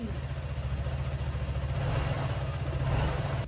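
Honda PCX scooter engine running after a repair, a steady close idle with a fast even throb that rises slightly toward the end, heard alone.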